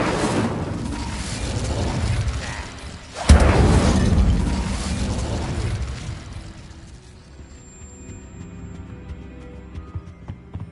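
Confringo and Incendio spell explosions in the video game Hogwarts Legacy, a rumbling blast with a sharp burst partway through, then a fading fiery roar that trails off into quieter ambience.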